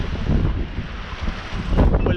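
Wind-driven waves rush past a Contessa 26 sailboat under a tiny mainsail, a steady broadband roar of water and wind noise buffeting the microphone, swelling near the end.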